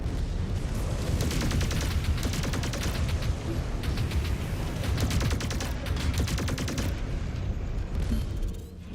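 A mech's machine gun firing in a video game, a dense rapid rattle of shots over a heavy rumbling bed, sustained and loud for most of the stretch.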